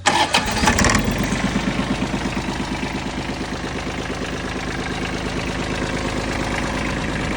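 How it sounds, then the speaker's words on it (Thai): An Iseki Sial 5 tractor engine is key-started: a short cranking burst, then the engine catches and settles into a loud, steady, rhythmic idle chugging close by. "สตาร์ทดับอยู่ที่ลูกกุญแจลูกเดียวนะครับ"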